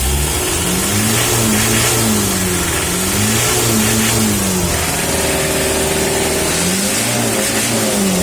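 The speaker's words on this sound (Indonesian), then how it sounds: "Itu bunyi mesin" An old Mitsubishi L300 engine revs up and down repeatedly in a wavering rhythm, loud and close, with a steady mechanical drone underneath.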